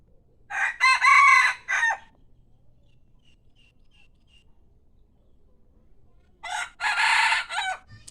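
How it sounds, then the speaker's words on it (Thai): Pradu-coloured Thai rooster crowing twice nearby, two loud drawn-out calls separated by several seconds of quiet. "เจ้าประดูนะครับ หูใหญ่ด้วยนะครับ ขันเพราะมากนะครับ"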